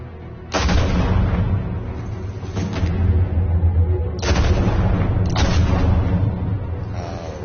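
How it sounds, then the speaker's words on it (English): Gunshots in the Batman Telltale video game, loud booming blasts that open abruptly, then a second burst of heavy shots follows after a pause, with sustained rumbling between them. "Why would you shoot her?"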